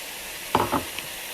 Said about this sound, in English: And I'm going to mix this and cook it for another 5 minutes.